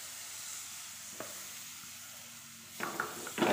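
Finely chopped tomato fries in a pan for Kerala-style crab roast, a soft, steady sizzle with a couple of quiet stirring scrapes that grow slightly louder near the end.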